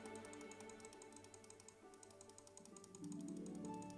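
Computer mouse clicked rapidly and continuously at a desk, a steady run of small close clicks over a faint electrical hum, with no voices.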